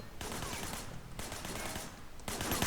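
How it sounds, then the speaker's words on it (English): Bursts of gunfire in the video game Sleeping Dogs, with shots fired from a van's passenger window in rapid clattering volleys that come in two or three dense waves, fairly loud and continuous. "There was a shooter. Firing shots from the passenger window."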